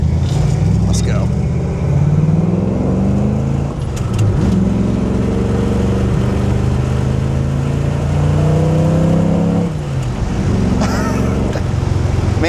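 A 1961 Chevrolet Corvette convertible with a dual-quad 283 V8 and four-speed pulls hard, its engine note climbing steadily through each gear. Sharp drops mark the shifts before it climbs again, loud and close throughout.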